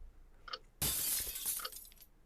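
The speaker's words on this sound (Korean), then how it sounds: "바깥에서 진짜로 물건 깨지는 소리가 났다." A sudden loud crash of glass shattering, with fragments tinkling and scattering for over a second before fading. Quieter noises precede it.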